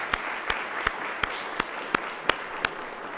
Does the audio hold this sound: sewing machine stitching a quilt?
no